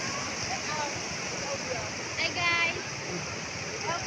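Spring water at a beach resort rushes steadily in a constant, close, waterfall-like roar, with occasional splashes, while a person talks over it.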